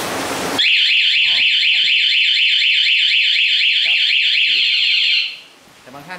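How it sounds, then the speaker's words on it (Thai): Yamaha Spark 135i motorcycle anti-theft alarm blares a loud, rapidly warbling siren tone for about five seconds after a short burst of noise, then cuts off, with faint voices and movement in the background. "ใครโดนรถเรานะครับมันจะมีเสียงถ้าโดนอีกทีจะดังยาวนะครับ"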